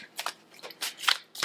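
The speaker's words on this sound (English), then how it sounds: "I was going to shuffle a little bit more," Tarot cards are shuffled by hand up close in quick bursts of crisp riffling, five or six short flurries with brief pauses between them.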